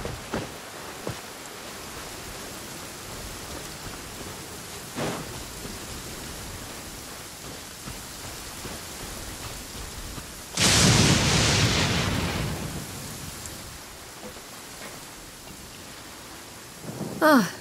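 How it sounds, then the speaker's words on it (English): Heavy rain pours steadily in Genshin Impact, with a loud close thunder crack about two-thirds of the way through and fainter rumbles earlier and at the end. "This heavy rain must be quite an inconvenience for you."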